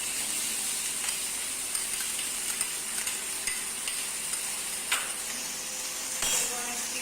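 Carrots and beans sizzle in a hot pan for paddu, a steady frying hiss broken by occasional clinks and scrapes of stirring, close by.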